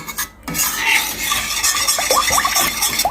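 A spoon scraping and stirring a thick mixture around a pan, close rasping strokes in an irregular rhythm after a short pause, with small clinks against the pan and no talk.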